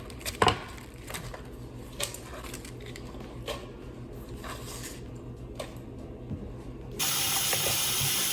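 Water runs steadily for several seconds as leeks are rinsed in a bucket, with scattered splashes and clinks, then the flow suddenly grows louder and fuller near the end.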